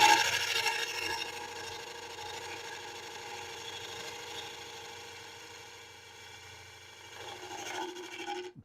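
A lathe cuts a segmented brick-style wooden bowl with a continuous scraping, rasping hiss of the tool on spinning wood, louder at the start, softening midway, then swelling again before it stops.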